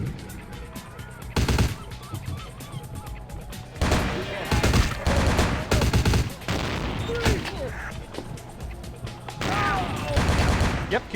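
Bursts of gunfire in Vampire the Masquerade Bloodlines, loud repeated shots in clusters separated by short pauses, with a voice talking over parts of the firefight.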